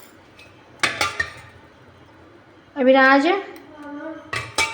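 A spoon clinks against dishes while breakfast of puri and yogurt is served, with short bursts of clinking near the start and again at the end around a brief spoken word.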